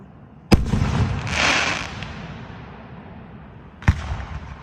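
Fireworks exploding at a fairgrounds show, two sharp loud bursts a few seconds apart, the first followed by a long crackling, hissing fallout that fades into rumbling background.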